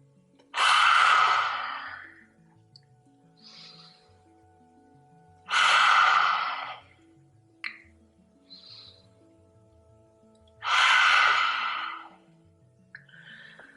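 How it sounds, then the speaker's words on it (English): Three strong, forceful open-mouth exhales of yoga lion's breath, evenly spaced several seconds apart, each a loud breathy rush, with quieter nasal inhales and soft background music between them. "take a few lion's breaths, breathing in through the nose, exhaling through the mouth,"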